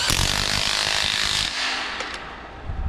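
A power gun driving and tightening fixings on Irish-style fencing being put up at a farm festival site, a loud continuous mechanical whirring roar that drops in level partway through, close by with no talk.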